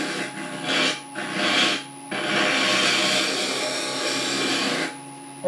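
A teak pot is hollowed out with a hand tool, producing repeated rasping, scraping strokes on wood, close and fairly loud, with brief pauses between passes and a longer continuous scrape.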